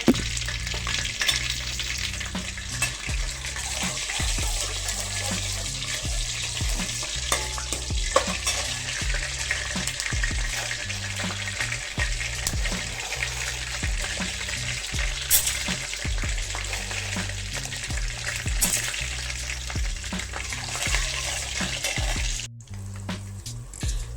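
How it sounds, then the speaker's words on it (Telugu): Peanuts and tempering spices fry in a pan for amla (usirikaya) pulihora, a steady close sizzle with stirring scrapes recurring throughout. "పల్లీలు అలాగే పోపు దినుసులు వేసి వేయించుకుందాం"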